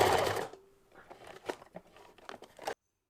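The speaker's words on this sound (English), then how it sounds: "As I'm sewing in a circle, I didn't backstitch at the start" A sewing machine stitches a circle around a fabric bow tie gift bag: a loud, close whirring burst for half a second, then scattered soft clicks, rustles and fabric handling noises before a sudden stop.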